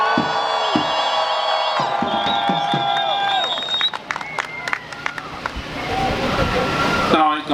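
A crowd at a pro-Palestine rally in Montreal cheers and chants. Sustained voices come first, then scattered clapping and shouts build and continue to the end, with some speech mixed in.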